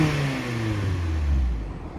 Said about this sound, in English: 2 aluminum exhaust outlets at the bottom, which sound pretty good